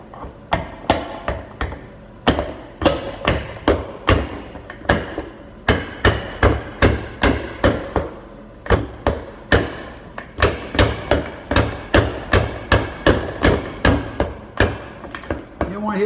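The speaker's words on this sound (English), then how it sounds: "we just take the wooden end of the handle here, and we start trying to hold the compressor in place, start driving the piston down" The wooden end of a tool handle hammers down a compressor piston during an engine build. Sharp, close knocks repeat in quick, uneven bursts with short pauses between them.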